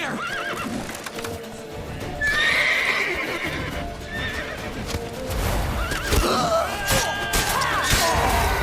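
Horses in The Witcher 3 neigh loudly several times over a steady clip-clop of galloping hooves, with some shouting and combat noise in the mix.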